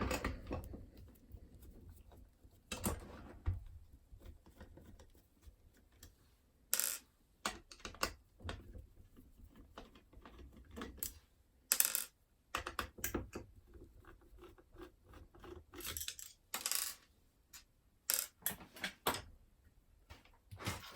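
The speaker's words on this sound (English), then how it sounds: "Let's take these screws out." Screws are taken out of a Legge mortice lock with a removable hardplate, small metallic clicks, taps and scrapes coming in scattered close bursts separated by quiet pauses.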